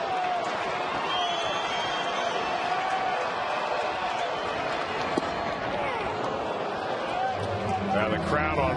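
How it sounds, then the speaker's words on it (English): A ballpark crowd roars steadily at a baseball game with the bases loaded and nobody out in the 12th inning, a dense, sustained wash of cheering from every deck, joined by louder excited shouts near the end. "Now the crowd on fire here."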